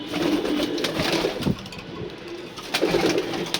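Racing pigeons coo in soft, repeated throaty phrases close by, a few overlapping calls rising and falling against a quiet room background, with no talking.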